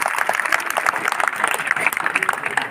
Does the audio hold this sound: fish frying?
no